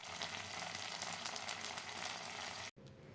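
Tempering spices for tadka sizzle and crackle in hot oil in a pan: a dense, bright frying hiss that runs steadily, then cuts off abruptly near the end, leaving only quiet room tone.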